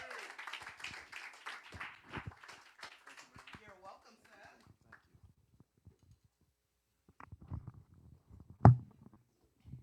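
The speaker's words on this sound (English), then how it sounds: "please give a round of applause for Mr. the one and only Mark Lacey" Audience applause at a spoken-word open-mic fundraiser as a performer is welcomed to the stage: a burst of clapping that thins out over a few seconds, followed by quiet stretches with scattered faint sounds and one sharp knock near the end.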